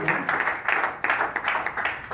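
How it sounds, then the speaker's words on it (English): Congregation clapping hands at a church sermon: steady, rapid applause from a crowd, fairly loud and continuous, with a few louder accents throughout. "Clap your hands for the Lord."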